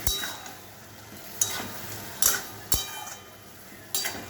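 Small fish for a Bengali potato curry go into a pot of boiling water, giving several separate clattery clinks and splashy stirring knocks over a steady low bubbling hiss. No one speaks.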